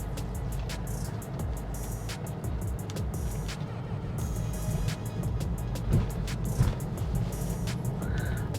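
Tesla Model 3 driving itself on FSD Beta through a hospital area, a steady interior hum of road and tire noise with faint repeated ticking clicks throughout.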